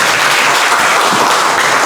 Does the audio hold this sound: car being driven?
no